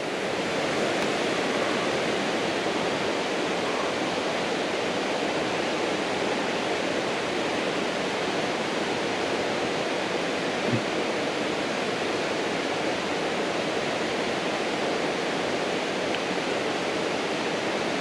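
A steady, dense roar of falling water, like a waterfall heard up close, at the Akame 48 Waterfalls in Japan, continuous and unbroken throughout with no voices.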